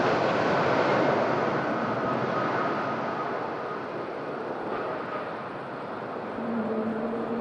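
A Falcon business jet at windy Madeira Island Airport gives off a steady, moderately distant engine rush and hum that holds for several seconds with slight swells in level.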